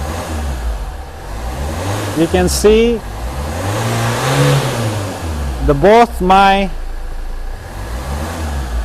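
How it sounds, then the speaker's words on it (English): A 2013 Hyundai Santa Fe diesel engine revs up and down in two swelling pulls over a steady idle, close and loud, with someone talking over it. "I'm revving the car now."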